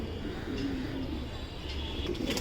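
Racing pigeons coo softly inside a loft, giving a few low, throaty murmurs against a quiet background hum.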